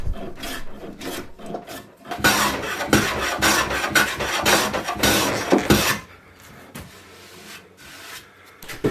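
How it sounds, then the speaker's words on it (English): A hand rasp scrapes decorative bevels onto the end of a wooden mailbox crossbeam, in quick rhythmic strokes that rise into a loud, sustained burst of filing before easing into lighter, intermittent scrapes. "I'm just putting some bevels onto the crossbeam that's going to hold the mailbox, some decorative bevels just to clean up the ends"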